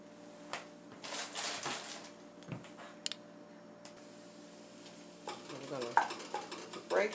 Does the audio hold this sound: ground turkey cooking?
yes